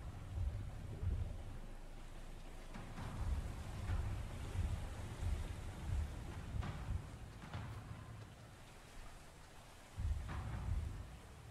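Water sloshes and surges through a flooded underwater area in the video game Under: Depths of Fear, a steady churning wash with periodic heavier swells and low rumbling.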